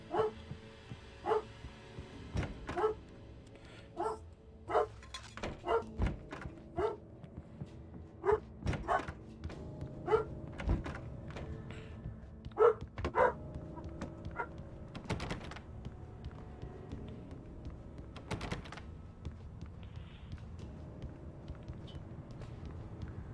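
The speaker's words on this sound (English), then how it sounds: "dog barking" Repeated dog barks from a video game set at a motel, loud and close, coming in irregular bursts over a murmuring ambient background for most of the stretch.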